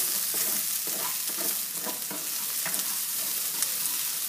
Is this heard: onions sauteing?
yes